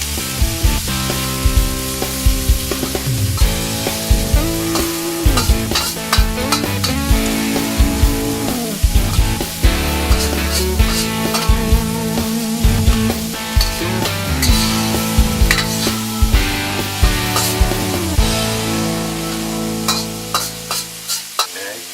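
Garlic stir-frying in a pan for fried rice, with a steady sizzle under repeated scraping and clinking of a utensil against the pan in a regular rhythm, close and loud, with a tonal hum running underneath.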